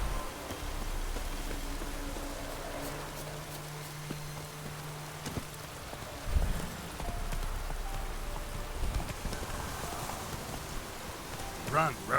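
Geralt's horse Roach galloping in The Witcher 3: Wild Hunt, steady hoof clip-clops over falling rain, with game sounds layered faintly underneath.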